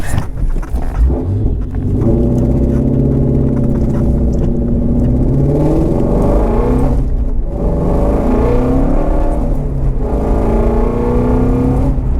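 Ford Mustang GT350 on a track, engine note rising and falling through revs with a downshift into third, loud steady interior roar with shifting harmonic pitch and a brief dip mid-run.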